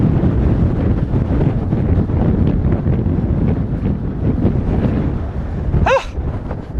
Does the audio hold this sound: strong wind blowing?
yes